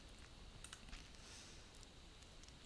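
A single sharp mouse click near the end, after near silence with a few faint soft clicks.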